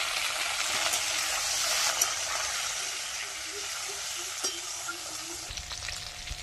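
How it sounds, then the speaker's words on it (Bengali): Tomatoes and fried potatoes sizzling together in a pan for a bhindi dish, a continuous close hissing fry with occasional soft clinks and scrapes of stirring, no talk. "টমেটো আলুর সাথে একটু ভালো করে কষিয়ে নিলাম"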